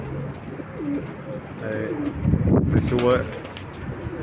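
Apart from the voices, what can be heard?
pigeons cooing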